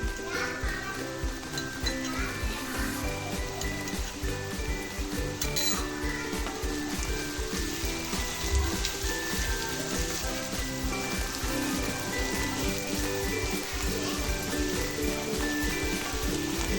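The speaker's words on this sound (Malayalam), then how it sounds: "ഈ മുളകിൻ്റെ പച്ചമണം ഒന്ന് മാറണം കുറച്ച് നേരം കൂടെ ഒന്ന് വഴറ്റാം" Crushed chili sautéing in a pan for a dried fish chutney, a constant crackling sizzle with scraping stirs and occasional metallic clinks, fairly close and steady throughout.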